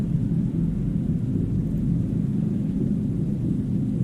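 Steady, loud thunderstorm from the video game Signal Simulator, a continuous deep rumble of thunder with rain-like wash, filling the whole stretch without pause or voices.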